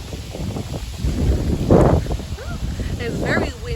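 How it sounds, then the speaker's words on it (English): Strong island wind gusts and buffets the microphone outdoors, swelling in loud rumbling bursts while a person talks over it. "It's very windy these past few days on the island, but I like it."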